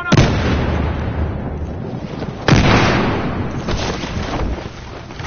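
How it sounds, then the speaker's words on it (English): Grenade explosion in the video game Battlefield Hardline, two loud booming blasts a few seconds apart, each with a rumbling decay and debris noise trailing after. "I got a grenade on him!"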